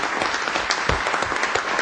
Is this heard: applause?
yes